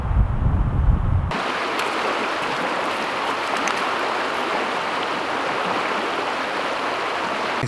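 Steady broadband rush of creek water flowing in a Florida forest, a continuous close wash that starts abruptly after a brief low rumble and carries on without talk.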